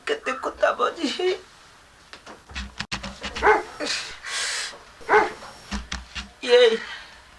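A dog barks in several short bursts close by, mixed in with people talking in a rural Maithili-speaking household.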